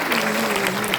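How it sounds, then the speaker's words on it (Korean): A seated audience bursts into a brief, dense round of applause for a pastor at a Monday education meeting, the clapping steady and close, with a faint tonal hum underneath. "감사의 박수를 보내주시기 바랍니다"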